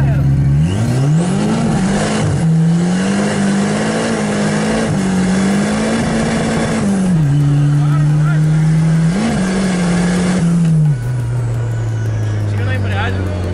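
Turbocharged car revving hard in a loud, continuous engine drone that rises and dips through a clutch kick, with a lower steady tone settling near the end; speech is present alongside.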